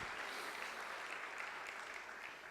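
A church congregation clapping during a worship service, a dense, even wash of applause from many hands heard at a distance, fairly faint and steady.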